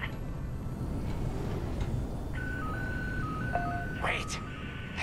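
Stepped electronic beeping signal in the Star Wars: Squadrons video game, a thin melodic tone sequence over a dense low cockpit rumble, with brief bursts of noise.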